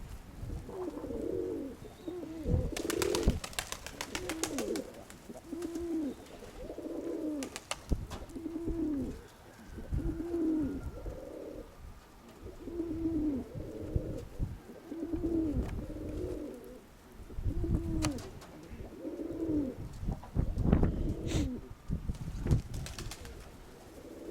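Pigeon cooing in a repeated series of soft, rhythmic coos, close and steady, with occasional wing or handling noises and no talk.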